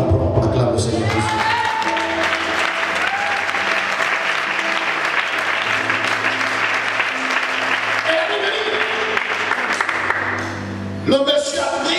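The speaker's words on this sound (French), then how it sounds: "Si tu commences un peu à le comprendre, acclame le Seigneur Jésus." A church congregation claps and cheers in sustained loud applause that fills the room for several seconds, with a voice speaking over it before it fades and a single voice rises at the end.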